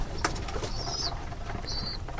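Pigeons feeding in their loft give soft calls, with a couple of short, thin high tones and scattered light clicks over a low steady background hum.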